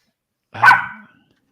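A single sharp dog bark rings out close and loud, a short burst lasting about half a second amid otherwise silence.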